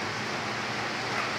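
Heavy rain pours down in a steady, even hiss with no breaks, heard at a moderate distance and with no voices.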